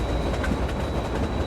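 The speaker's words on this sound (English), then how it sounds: "So now the train goes, huh?" A train passing in the film Underworld (2003), a loud, dense rumble with a continuous rolling clatter of wheels on rails and a faint high whine, close and steady.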